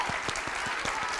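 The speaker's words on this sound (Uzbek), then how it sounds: "bitta chiroyli biroz qarsak." A studio audience claps for a contestant on a television entertainment show, a brief burst of steady, even applause.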